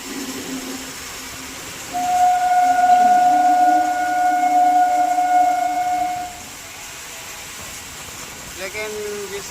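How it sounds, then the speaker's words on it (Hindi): An Ananya Express or Kolkata–Gwalior Express train passes nearby on an Indian railway line, a long steady horn-like tone and rolling rumble holding for about four seconds before fading, with quieter track noise afterward. "या तो ये अनन्या एक्सप्रेस है या कोलकाता ग्वालियर एक्सप्रेस हो सकती है।"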